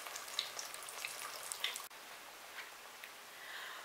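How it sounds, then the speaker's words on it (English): Steady crackling sizzle of cassava fritters (alcapurrias) frying in hot oil, with scattered small pops and ticks, fairly faint and continuous throughout. "I have my two alcapurrias frying up"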